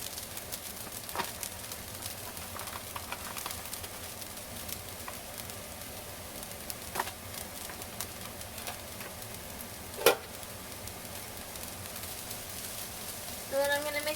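Soy curls fry in a pan as a vegan grilled-fish stand-in, giving a steady low crackle and sizzle that runs throughout, with one brief louder clink partway through and a short scrape near the end.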